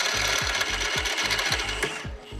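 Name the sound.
drilling holes for BMW M4 half cage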